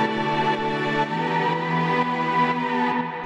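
Sustained Ableton Operator synth lead for chill house, notes sliding slowly into pitch with long drawn-out glides, steady and moderately loud with no talking.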